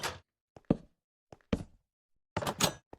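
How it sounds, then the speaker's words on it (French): Iron doors open in a video game bunker build, sounding as a few short, sharp mechanical clunks and thuds separated by silence, with a final longer grinding burst. "Bam, la porte s'ouvre"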